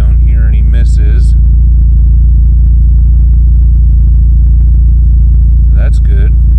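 A VW Mk4 with the 1.8T engine and upgraded ignition coils sits at a low, steady idle after settling down, a close, even rumble with brief bursts of voices near the start and end.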